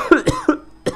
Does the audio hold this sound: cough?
yes